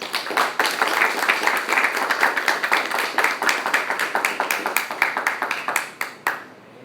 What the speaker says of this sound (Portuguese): Salva de palmas para Nossa Senhora